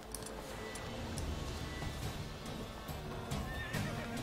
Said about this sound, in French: Il y a mon cheval qui est en train de se faire maltraiter par des loups.